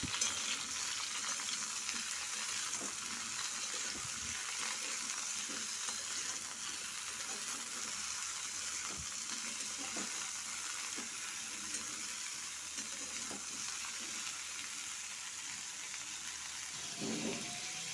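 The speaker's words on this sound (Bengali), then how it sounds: "আমি এবার পটলগুলো ভালোভাবে ভেজে নেবো" Pointed gourd pieces sizzle steadily in hot oil, a constant crackling hiss with occasional soft knocks of stirring.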